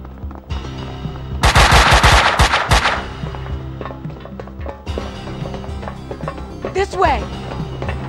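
A loud burst of machine gun fire, a rapid stutter of shots lasting over a second, comes amid tense dramatic music with a few later impacts and swooshes, and voices speak around it.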